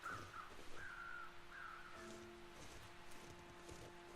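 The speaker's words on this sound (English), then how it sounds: "Those crows are circling the deer carcass down there." Crows circling a deer carcass caw in the snowy wilderness of the survival video game The Long Dark, several harsh calls in the first two seconds over quiet ambient wind and light footsteps.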